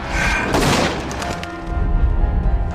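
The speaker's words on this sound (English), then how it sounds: "Outside the house, the gardener hears the gunshot." A gunshot rings out from a handgun inside a house, a loud sharp blast followed by a booming decay and low rumbling tail, with no voices.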